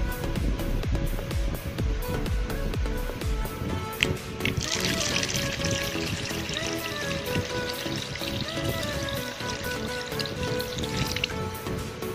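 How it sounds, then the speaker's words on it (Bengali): Water is poured into aam pora sharbat, a steady liquid fill heard over ongoing kitchen noise, with someone talking across much of it. "জল দিচ্ছি।"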